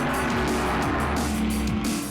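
Race cars roar around Las Vegas Motor Speedway in the Nevada desert, a loud, continuous engine drone with swooping pitch sweeps as cars pass, and faint tire squeal mixed in; no talking.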